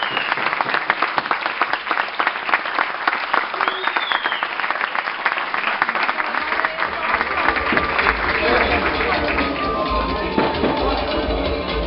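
A large crowd applauds steadily, dense clapping filling the space with some cheering voices mixed in, sustained throughout.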